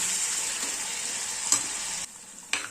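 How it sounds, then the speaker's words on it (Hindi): Chopped tomatoes sizzle and fry steadily in a pan with onions for a winter saag, a loud continuous crackle with a couple of brief stirring knocks and a short pause near the end. "अब हम इसमें डाल देंगे कटे हुए टमाटर और टमाटर को नरम होने तक अच्छे तरीके से पका लेंगे।"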